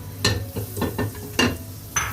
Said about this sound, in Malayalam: അതിലോട്ട് നമുക്ക് 1 ക്യൂബ് ബട്ടർ, ഇത്രയും മതി ബട്ടർ കേട്ടോ, ഇട്ട് കൊടുക്കാം.